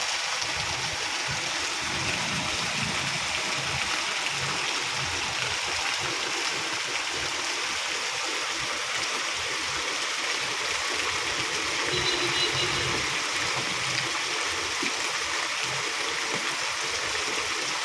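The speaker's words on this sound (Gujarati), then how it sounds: "જોઈ લ્યો પાણીના દદડિયા દદડિયા પડે છે" Heavy monsoon rain pours outside a large building, and water streams down without a break. The broad rushing wash stays loud and steady throughout.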